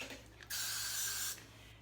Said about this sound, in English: when you spray your spritz or whatever